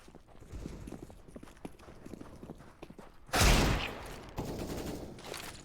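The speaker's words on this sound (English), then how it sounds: "beautiful shot with the Deagle" Desert Eagle pistol fire in a competitive video game match, with a sudden loud broadband blast about midway, a second burst later, over a background of quieter rhythmic game noise and footsteps.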